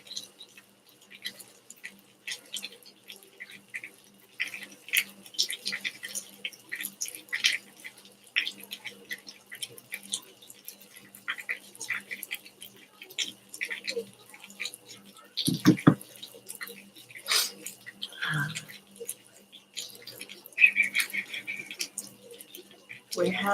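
Rain dripping and splashing at an open back door, scattered irregular drips and taps, some louder splashes, amid quiet room sound with a person speaking at times.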